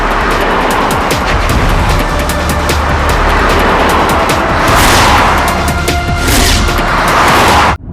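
A car driven at speed, with a loud continuous engine and road roar, broadband whooshes and rushes throughout, ending abruptly.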